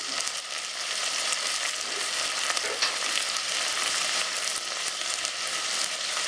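Onions and tomato fry in a pan with a steady, close, bright sizzle that holds even throughout, without any talking.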